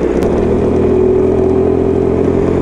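A motorcycle ridden by a rider wearing a Hongjin FG-JET open-face helmet accelerates, its engine droning steadily and loudly at close range with a rising tone, heard alone without talk.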